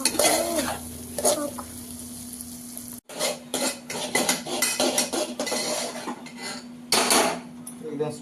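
Chickpeas sizzle and fry in a spicy masala while a spoon stirs and scrapes against the pot, with loud continuous frying and clattering metal contacts, briefly interrupted then resumed.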